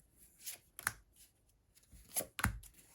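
Cards are shuffled in a few quick riffling bursts, crisp and close, separated by short pauses.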